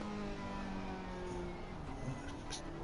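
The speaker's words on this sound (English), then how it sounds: "you just listen to just the noise that comes out of this car" Race car engine in Assetto Corsa Competizione heard on board, a steady quiet droning engine tone with shifting pitch, faint and continuous.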